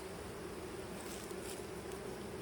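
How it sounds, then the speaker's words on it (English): Honeybees drone steadily around an opened hive during a split to prevent swarming, a dense continuous hum with a faint windy hiss, close and unbroken throughout. "So we have some bees over here."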